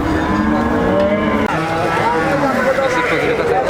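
Cows lowing at a cattle market for native-breed cows with calves, drawn-out moos close by and loud amid crowd voices and other animal sounds.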